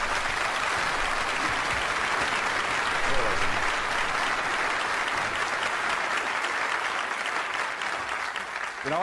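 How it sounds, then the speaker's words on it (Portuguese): Audience applause at a motivational seminar welcoming a speaker to the stage, a continuous dense wash of clapping that holds steady for the whole stretch, loud and full, with faint voices mixed in. "Então vamos dar a John uma grande salva de palmas"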